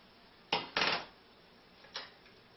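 A pan set down on a kitchen stove, two close metallic clunks in quick succession, then a lighter knock a moment later, with no one talking.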